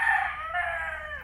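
A neighbour's rooster in Palawan crowing once, a single drawn-out call heard at moderate distance and fairly faint, with no voices.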